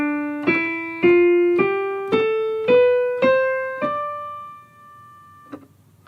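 On a keyboard, the Dorian mode is played as a rising scale on white keys only, starting from D. Seven evenly spaced notes each decay cleanly, close and alone, and the last note is left to ring out.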